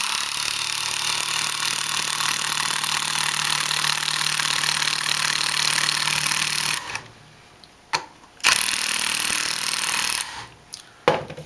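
Cordless impact driver sinking a lag bolt into wood, a loud continuous hammering whir that stops abruptly, followed by a couple of short bursts.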